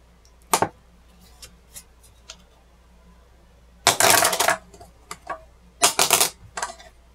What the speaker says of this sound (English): Dropping it on my desk.